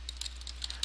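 A folder name being typed on a computer keyboard: a quick run of about seven or eight light, close key clicks in under a second, over a low steady hum.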